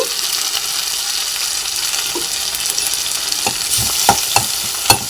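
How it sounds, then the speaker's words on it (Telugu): Onions and tomatoes fry in a pan for tomato bath upma, giving a continuous close sizzle with a few sharp spoon scrapes and clinks toward the end; no one speaks. "ఉల్లిపాయలు ఇలా ఫ్రై అయినాయి కదండి, టమాటా కూడా వేసేసుకున్నాం."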